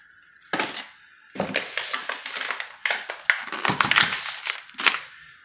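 A paper bag of wheat flour is torn open in a kitchen while making Nigerian fufu, with several bursts of crinkling, ripping paper and handling noise across a few seconds, close and fairly loud.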